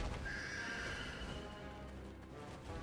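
Horse in the game Black Desert Online, a loud close whinny followed by hoof clip-clops, with no voices.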